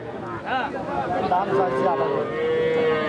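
Cattle low and moo at a busy cattle and goat market in Birganj, with several calls rising over a constant crowd murmur and nearby voices talking throughout.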